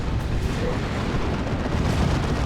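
An artillery barrage in the real-time strategy game Warhammer 40,000: Dawn of War 2 makes a dense, continuous, loud rumble of overlapping explosions with no breaks.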